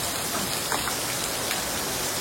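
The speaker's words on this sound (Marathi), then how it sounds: "पाऊस जोरात आला" Dense, steady downpour hissing evenly on surfaces, a loud unbroken wash of heavy rain with no voices.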